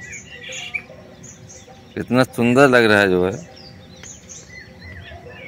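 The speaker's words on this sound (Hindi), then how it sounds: "ये देखिए दोस्तों सुबह सुबह चिड़िया जो है खेल रही हैं" Small birds chirp faintly in the early morning beside flooded sugarcane fields in an Indian village, with scattered tweets before and after someone speaking loudly close by.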